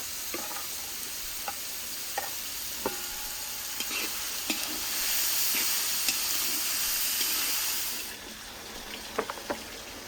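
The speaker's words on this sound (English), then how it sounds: "Meanwhile, we've thrown our vegetables into the frying pan." Vegetables sizzle and crackle steadily in a frying pan during outdoor mountain cooking in Azerbaijan, with occasional stirring clinks and scrapes over the constant hiss, which swells midway and then eases off.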